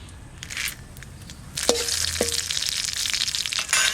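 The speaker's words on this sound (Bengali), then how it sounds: "তেজপাতা, শুকনো লঙ্কা, এবার দেব সর্ষের তেল।" Bay leaf and dried chilli crackle in hot mustard oil, with a soft background sizzle punctuated by a few sharp pops and crackles; close, fairly quiet and without talk.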